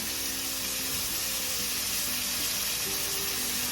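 Spring onion dropped into a pan of frying chayote and egg, giving a loud, steady sizzle that fills the whole stretch without pause.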